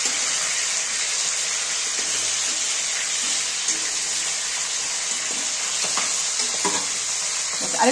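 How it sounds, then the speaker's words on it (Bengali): Fish heads fry in a pan, making a bright, continuous sizzle with occasional light scraping and stirring knocks, and no one speaks. "এবার মাথাগুলো ভেজে নেব।"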